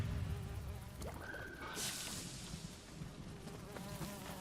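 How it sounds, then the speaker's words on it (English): Insect-like buzzing from bees in the video game Nioh 3, a steady drone running under game music and effects for a few seconds at moderate level. "Bees."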